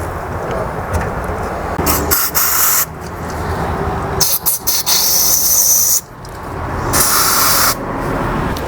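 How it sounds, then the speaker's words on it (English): Carb cleaner sprayed from an aerosol can onto a lawn tractor carburetor, loud close hissing bursts of varying length separated by short pauses. "I will just spray a bit of carb cleaner here"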